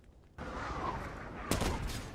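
Tank cannon fire in the World of Tanks video game, with a sudden loud blast after a quiet start, then a second sharp shot about a second later, each leaving a sustained rumbling tail.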